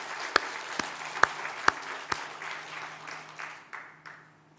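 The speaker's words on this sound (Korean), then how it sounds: "우리 하나님께 감사와 영광의 박수를 올려드립시다" A church congregation applauds during a Sunday worship service: a few sharp, loud separate claps ring out first, then blend into a softer, broad wash of clapping that fades away.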